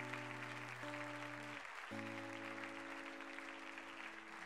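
Church congregation applauding, a soft continuous patter of many hands under sustained organ or keyboard chords that briefly drop out partway through, heard faintly and at some distance.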